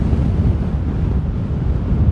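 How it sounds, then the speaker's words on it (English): Strong gusts buffet an outdoor microphone on a hike among trees, producing a loud, steady, low-pitched roar and rumble that fills the whole clip with no break. "it's very windy"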